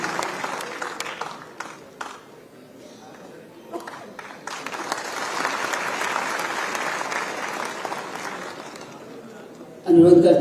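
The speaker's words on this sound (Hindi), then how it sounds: "जोरदार तालियां आप सबकी" Audience at an official ceremony in Rajasthan applauding, a broad crowd clapping that swells midway and holds steady, with voices and chatter around it and a louder voice close at the end.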